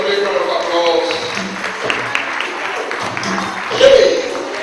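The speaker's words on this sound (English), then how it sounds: "Give them a big round of applause" An audience at a birthday celebration applauds, steady clapping of moderate loudness under a speaking voice.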